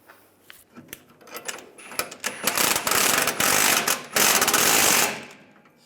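A ratchet tightens the nut on a leaf spring bolt of a 2007-2013 Chevrolet Silverado 1500, starting with sparse clicks that build into rapid, loud, close ratcheting strokes before stopping abruptly.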